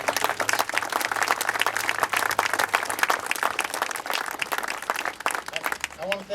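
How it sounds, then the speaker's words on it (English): Crowd at a rally in support of veterans applauding, dense steady clapping that fills the space and thins out toward the end. "You all deserve a good round of applause for taking the time to do this."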